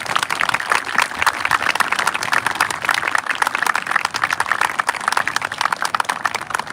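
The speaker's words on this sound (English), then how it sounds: "Let's give them a round of applause." Graduation audience applauding for students' parents, a dense, steady wash of many hands clapping that continues evenly at full volume for several seconds, with no voices standing out.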